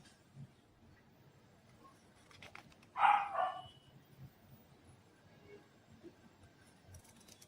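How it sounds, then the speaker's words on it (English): A dog barks at a gate, one short burst of barking at moderate distance over a quiet background murmur, with a few faint clicks before it. "You can hear the dogs barking."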